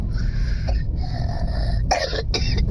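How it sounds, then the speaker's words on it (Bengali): A person coughs inside a car, several harsh coughs in a short cluster, close and fairly loud against the low rumble of the moving vehicle. "খুব কাশি হয়েছে তোর"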